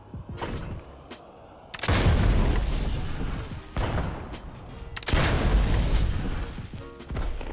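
Heavy booming blasts of a cannon launching a cannonball in a video game, two loud crashing bursts with rumbling tails and sharper clicks between, no talk.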